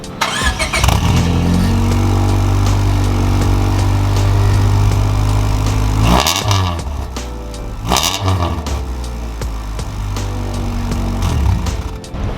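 A Honda Civic engine idles loudly and steadily with a raspy, buzzing exhaust note, then revs briefly twice before settling back to a rough idle.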